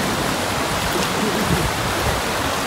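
Sabsaban waterfall in Palawan, a constant loud rush of falling and flowing water close by, filling the whole scene with broadband white noise and no speech.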